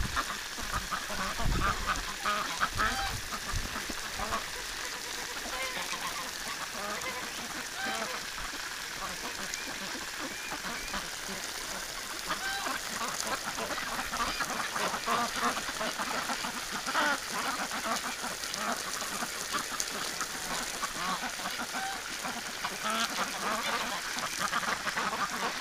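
Wintering ducks and geese quack and honk repeatedly in a snowstorm beside a garden hose, a busy overlapping chorus of calls near and far, with a person talking intermittently throughout.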